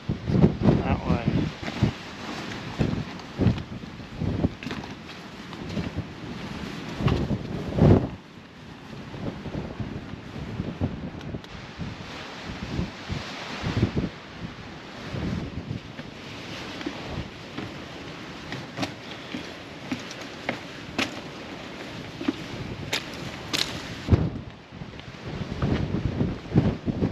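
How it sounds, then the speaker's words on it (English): Strong gusting wind buffets the microphone on an exposed hillside walk near the Valley of Desolation and Simon's Seat, a loud continuous roar with rushing surges and brief lulls. "I don't know if you could tell, but that wind absolutely battered me up there."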